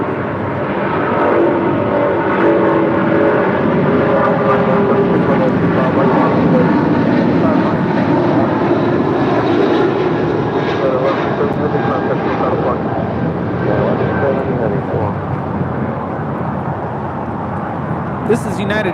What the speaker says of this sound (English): This is United Airlines 1170 departing to Honolulu on a 777-200